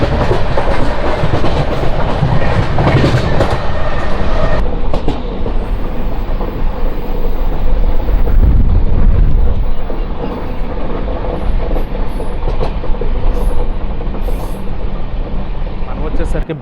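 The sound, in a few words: Simhapuri Express passenger train running on rails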